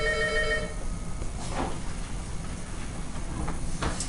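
A telephone rings briefly at the start in a classroom with a short electronic trill, then gives way to steady background hiss and faint shuffling.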